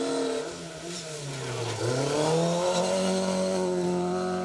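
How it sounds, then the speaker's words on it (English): A Fiat 131 rally car drives hard on a gravel rally stage, its engine note rising and falling through revs and gear changes, loud and close, with a sustained howling drone throughout and no talk. "Barry Jordan and Paul Wakely bring out the Fiat 131 this weekend."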